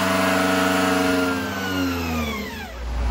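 A 1,500 horsepower motorcycle engine revs hard and loud up close, its pitch climbing and then sliding back down, with no talking.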